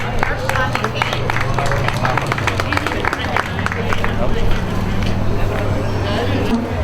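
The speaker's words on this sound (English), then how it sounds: "Everyone please give a nice round of applause for Assemblyman Bucco" Audience clapping for Assemblyman Bucco at a township gathering, a dense burst of applause and crowd murmur that lasts throughout with voices underneath.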